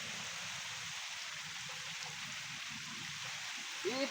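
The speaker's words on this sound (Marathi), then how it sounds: "पावसाला काहीतरी झालाय, पाऊस भरपूर आहे." Heavy rain pours steadily on a Konkan farm field, a dense, even hiss that continues without a break, with a brief louder sound near the end.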